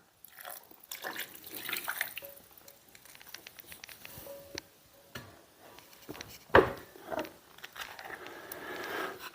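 Red wine-deglazed pan juices are poured into a simmering sauce, producing soft, uneven splashing and dripping patter with intermittent louder spills, fairly close and quiet.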